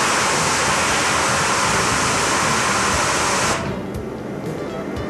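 A fan-type 15-degree nozzle sprays water onto air cooler fins, a loud steady hiss of spray that cuts off partway through, leaving a quieter rushing wash.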